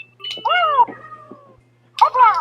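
A cat meows twice in close succession, each call drawn out and wavering, then a short pause before a second pair of meows, near and clear against a quiet room with a low hum.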